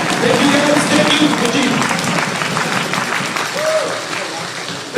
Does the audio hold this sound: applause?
yes